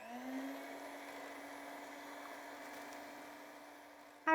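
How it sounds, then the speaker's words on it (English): Electric hand mixer whisking eggs for a frittata, a steady mid-pitched motor whine that holds evenly at a moderate level for several seconds, then ends in a brief louder clatter. "so I'm going to use my hand mixer"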